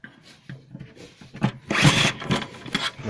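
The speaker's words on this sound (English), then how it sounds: "now you have to drill a little bit further" A screw is drilled out with a drill bit, giving a few short grinding bursts and scraping rubs that build into a louder sustained grind before trailing off in brief choppy passes.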